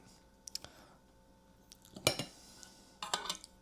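A spoon scrapes and clinks against a bowl while mixing bibimbap with gochujang and sesame oil, quiet scattered taps followed by two louder bursts of rattling metal on dish.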